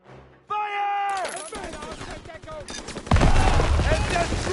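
Gunfire from troops in the World War II shooter Call of Duty WWII, bursts of rapid shots that swell into a loud, dense barrage near the end, with shouted voices and a rising tone over the battle.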